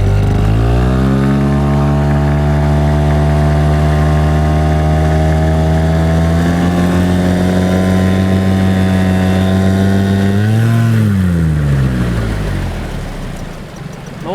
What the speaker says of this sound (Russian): Сейчас будет слышно такие перекруты, рев мотора, и будет выбрасывать вот этот петух.